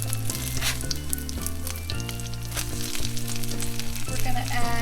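A canned tuna hamburger steak sizzles steadily in a frying pan after being flipped, a close, continuous crackle with tonal background music running underneath.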